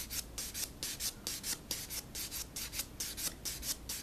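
Light strokes of a nail file across fingernails, using the finer side, repeated in a quick steady back-and-forth rasping rhythm, close and clear with no talking.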